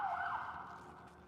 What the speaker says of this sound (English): We got sirens out here.